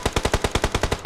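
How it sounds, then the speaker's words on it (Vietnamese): Rapid automatic gunfire in PUBG near a factory area, a fast burst of about ten evenly spaced loud shots with no talking. "bên khu nhà máy đang bắn lộn ầm ầm bên đó nè"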